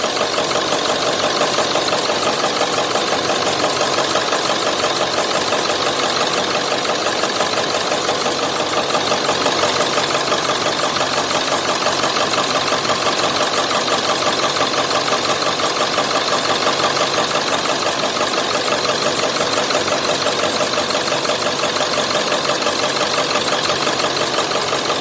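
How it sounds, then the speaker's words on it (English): A converted school bus engine idles steadily during a routine service, a continuous even rumble with a faint knocking texture that holds at a constant level throughout, with no voices over it. "Okay, we want to do this with the engine running."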